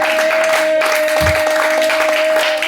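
A church congregation applauding and cheering during a sermon, a steady dense wash of clapping and acclamation with a sustained tone running underneath.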